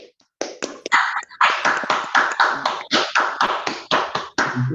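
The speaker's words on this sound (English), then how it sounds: "let's clap for Nadav" Several participants on an unmuted online call clap for a speaker after a lecture, a run of sharp, close, fairly regular claps lasting a few seconds, heard alone.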